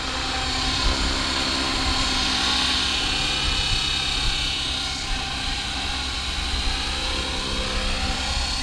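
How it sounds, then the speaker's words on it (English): A steady, buzzing motor drone of an Align T-Rex 550X radio-controlled helicopter hovering nearby, holding an even pitch throughout. "Just gonna practice hovering it sideways for a minute."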